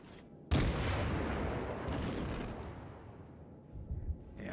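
Heavy warship guns fire in World of Warships: a sudden loud boom rolls into a long, fading rumble, with a softer thud near the end.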